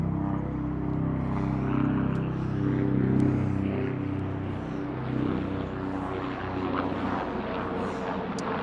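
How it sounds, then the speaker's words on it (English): A low-flying helicopter passes over Prospect Park in New York, a broad rumbling drone that swells and slowly fades across several seconds, loud and continuous with no talk. "Wow, that's a low-flying helicopter."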